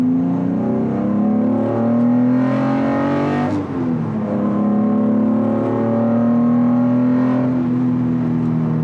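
Datsun 240Z, a light car of about 1,100 kilos, accelerates hard through second and third gear, the engine note rising loud and close, dipping briefly at the shift, then climbing again.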